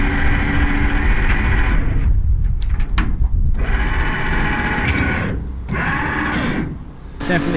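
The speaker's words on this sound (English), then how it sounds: "Let's see if we can get this winch working" An electric winch motor on a track-day car trailer whirs steadily and loudly nearby, broken by a few brief pauses, while people talk over it.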